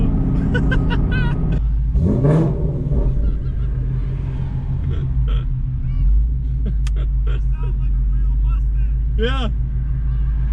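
A 2018 Mustang with a Corsa exhaust revs loudly close by, a deep steady rumble with a surge near the start, while people talk and exclaim over it throughout.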